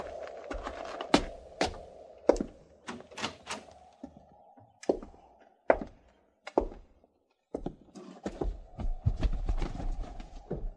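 Irregular hollow thuds of hooves sound on hard ground at close range, uneven knocks like horses shifting and stepping, with no voices.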